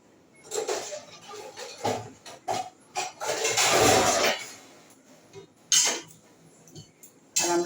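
A curry pot being covered with its lid in a home kitchen after the dishes are washed, heard as a few sharp metallic clatters and knocks scattered through a close, busy stretch of handling noise, with no talk.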